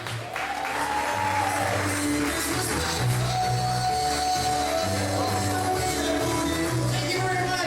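A comedy-show audience applauds comedian Connie Bryan with steady, full clapping and a few scattered cheers that hold loud for several seconds.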